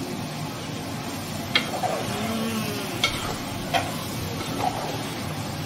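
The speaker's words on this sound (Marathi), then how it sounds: "आपल्या अर्धा किलो काजूगर आता आपण ह्याच्यात टाकायचे" Fresh cashew kernels, half a kilo, tipped into hot oil for a prawn curry, with a steady low sizzle and a few sharp clinks and scrapes of stirring at intervals.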